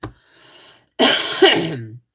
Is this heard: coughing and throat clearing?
yes